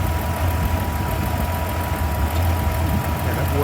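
An Alfa Romeo engine fitted with a replacement carburettor idles steadily with a low, even rumble, close and continuous, with no talk over it.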